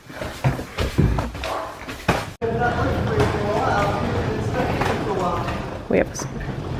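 Knocks and clunks of a door being handled, followed by a heavy thud and a continuous muffled rumble, with a voice briefly speaking.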